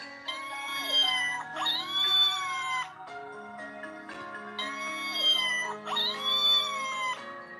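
A recorded cat meows from a cheap sound machine, with long, wavering, whiny calls in two matching repeating cycles, loud and close, with an electronic musical tone underneath.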